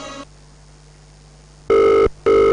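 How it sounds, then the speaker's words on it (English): A telephone rings loudly in two short, electronic bursts separated by a brief gap, after a softer tone and a quiet pause. "Oluyole, why are you answering the phone?"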